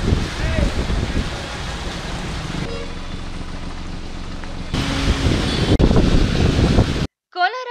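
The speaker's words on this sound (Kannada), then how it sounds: "ಕೋಲಾರ ಜಿಲ್ಲೆಯಲ್ಲಿಯೂ ಕಳೆದ ರಾತ್ರಿಯಿಂದ ಮಳೆ ಸುರಿಯುತ್ತಿದೆ." Heavy rain and gusting wind from Cyclone Nivar in Kolar district, a steady loud wash of downpour and wind buffeting the microphone throughout, ending in a brief quiet gap.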